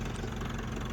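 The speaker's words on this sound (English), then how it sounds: "So the engine is just a really smooth runner." A 1974 Ford 5500 backhoe with a rebuilt engine idling smoothly, a steady close low rumble with even pulsing and no voices.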